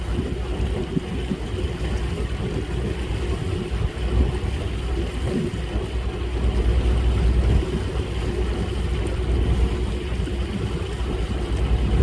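A boat cruises steadily toward Kengtung, its motor a constant low rumble with broad water and wind noise throughout, no voices, the drone swelling slightly midway.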